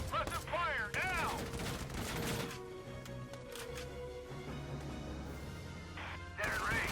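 Video game battle in Valkyria Chronicles 4 with rapid bursts of gunfire, a loud dense volley up front, then continuous rattling fire and impacts under a busy game soundscape.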